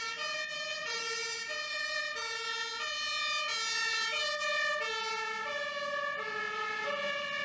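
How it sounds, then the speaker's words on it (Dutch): A fire engine's two-tone siren alternating steadily as the truck drives past and away, fairly faint and sustained throughout, without any talking. "U gaat een brandweerwagen horen en u doet uw ogen pas open op het moment dat u denkt dat die voorbij rijdt"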